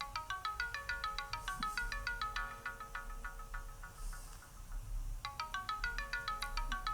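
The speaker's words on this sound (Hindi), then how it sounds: "इसका फोन है।" A phone ringtone plays a repeating electronic melody in steady bursts, pausing briefly before starting again, fairly close and clear.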